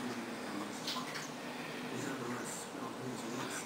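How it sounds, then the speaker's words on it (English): Dishes washed under a running tap in a home, a faint, steady wash of running water with occasional light splashes and clinks, distant in the background. "That sound is my mom washing dishes."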